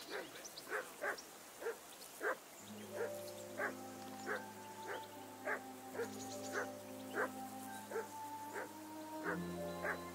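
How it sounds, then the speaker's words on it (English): A dog barks repeatedly at a steady pace in a medieval village scene from Kingdom Come Deliverance 2, with yips and whimpers over a low sustained music drone and faint background noise. "I assume you can hear that damn dog of yours barking."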